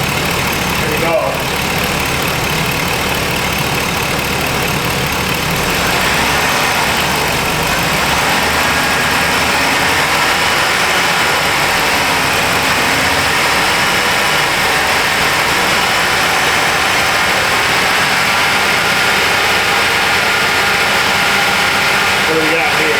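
A 2007 Chevy Silverado 1500 Classic with a running-rich fault settles back to idle after a throttle blip, a steady close engine drone with a brief rise near the start.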